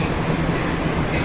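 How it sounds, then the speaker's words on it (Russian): A Chinese metro train arriving at a station rumbles steadily with a broad rushing roar, wheels and motor noise close by, with no voices over it. "Вот поезд."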